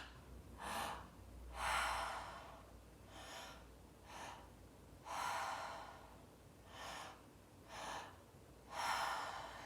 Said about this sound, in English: you're going to breathe first into your belly. So it's going to be through the mouth